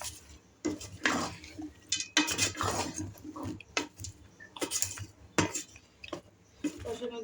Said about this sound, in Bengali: এখন আমি সুন্দর করে এগুলোকে কষিয়ে নেব।